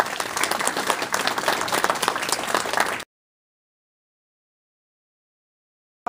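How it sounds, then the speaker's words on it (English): Audience at a meeting applauding, a full burst of clapping from many hands for about three seconds, then it cuts off abruptly into silence. "I think we need to give the hand applause to Billy."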